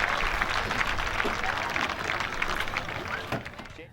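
Crowd at a speedway applauding the race winner, a continuous, somewhat distant clapping with an announcer's voice and faint background noise mixed in.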